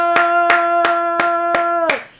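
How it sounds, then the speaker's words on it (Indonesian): A congregation at a prayer concert claps in unison, six sharp, evenly spaced claps over a sustained keyboard chord that fades out after the last clap. "Yang percaya kasih tepuk tangan, katakan haleluya."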